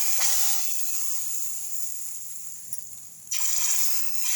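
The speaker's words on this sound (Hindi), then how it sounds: "और जीरा और मिर्ची का हम तड़का लगाएंगे।" Cumin and chillies sizzle in hot oil for a kadhi tempering, a steady bright hiss that fades down through the middle, then swells sharply again near the end, with no voices.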